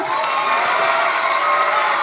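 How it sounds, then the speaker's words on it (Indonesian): A crowd at a talk show held at Pesantren Daarul Rahman, an Islamic boarding school, cheers and applauds. The dense, steady wash of clapping and voices fills the whole moment, loud and close, with no talk over it. "Tepuk tangan dong."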